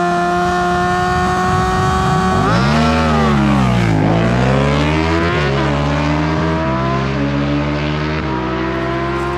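A Honda Hornet and a Yamaha MT-07 motorcycle drag race, engines roaring loud and close with rising revs, gear-change dips and a sweeping pitch shift as the bikes pass, no talk.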